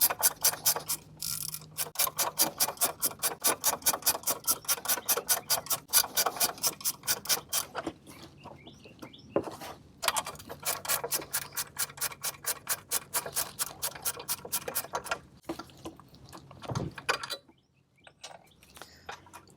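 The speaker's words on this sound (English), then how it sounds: "A small ratchet works really well for this." A small hand ratchet clicks steadily while backing out 13mm bolts from a VW serpentine belt tensioner, bursts of rapid, close ticking separated by brief pauses, with a few softer clunks near the end.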